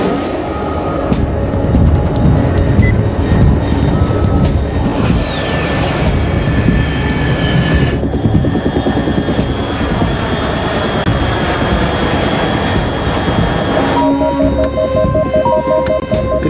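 A fast aircraft at high altitude in Metal Gear Solid 3 drones overhead, a steady loud engine roar with whining tones that shift midway, continuing without any voices.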